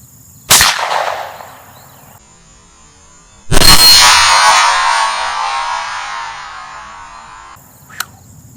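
Two .17 HMR rifle shots strike a mild steel target, each a sharp loud crack and clang, the second followed by a long bright ringing decay, with a faint small click near the end.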